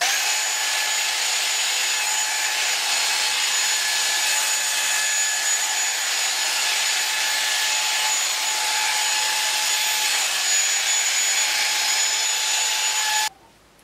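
A fake Dyson-style hair styler with its brush attachment runs in a loud, steady, high-pitched whine that holds unchanged for about thirteen seconds, then cuts off abruptly at the end.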